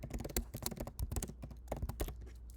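Rapid typing on a computer keyboard, a dense run of close, crisp keystrokes with a steady irregular rhythm and no talking.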